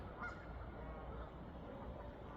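Hundreds of ducks gather by a pond, their dense honking and quacking forming a steady, fairly faint chorus throughout, with no talk.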